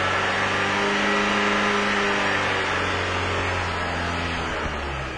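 A 2010 Dodge Sebring with a hard start and very rough cold idle, its engine revved up and held at raised RPM, a steady close drone that drops slightly near the end, with no talk.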